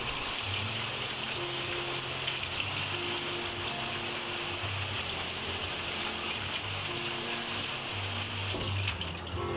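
Running tap water splashes steadily into a sink while celery is scrubbed clean beneath it, a continuous close wash of water with faint handling noises and no talk.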